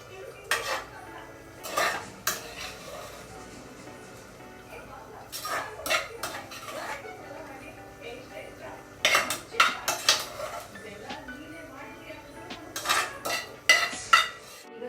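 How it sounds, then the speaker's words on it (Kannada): Cooled, roasted spices, including coriander seeds, go into a mixer jar in a home kitchen, giving quiet, intermittent clinks and scrapes of metal utensils and containers. "ಇದನ್ನ ನಾನು ಜಾರ್ ಒಳಗಡೆ ಹಾಕೊಳ್ತಾ ಇದ್ದೀನಿ"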